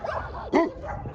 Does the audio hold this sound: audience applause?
no